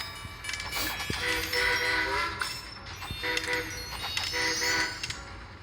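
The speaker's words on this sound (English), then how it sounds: "There's a slow train coming." A slow train rolls through the railway puzzle game Train Conductor World, with steady tonal horn-like tones sounding in repeated bursts over a busy mechanical background, partly under a speaking voice.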